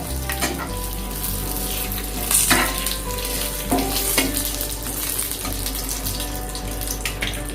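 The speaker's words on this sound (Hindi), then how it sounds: "ये तो तेज पत्ता जो लिया था वो तेज पत्ता डाल देंगे। ये सूखे मिर्च डाल देंगे और इसको थोड़ा हम फ्राई करेंगे।" Bay leaves and dried red chillies fry in hot oil with a steady sizzle, broken by a few louder stirring scrapes and splashes. No talking.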